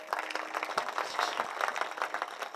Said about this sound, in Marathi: एक बार जोरात टाळी वाजवा आमच्या.